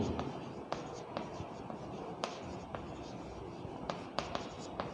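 Pen or pencil scratching out a math solution for a seventh-grade class, a steady close-up scrawl broken by sharp taps and quick strokes, with no talking.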